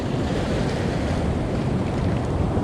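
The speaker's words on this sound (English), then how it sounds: "Oh, that water is so strong when it rushes out." Ocean surf rushing over a rocky shore, a continuous heavy roar of white water and spray with wind buffeting, loud and unbroken throughout with no voices.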